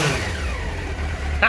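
A Honda CBR600 motorcycle under restoration, with its choke on, runs with a steady, buzzing engine drone. A short voice cuts in near the end.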